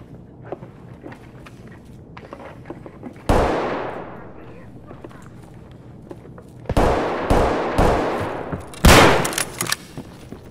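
A Toz-106 bolt-action shotgun fires in the Escape From Tarkov video game: one loud blast with a long echoing tail, then a quick run of four more sharp reports, with a voice talking quietly in between.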